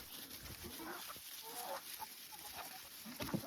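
Chickens cluck and murmur softly in the background, scattered short calls over a faint, steady outdoor hiss.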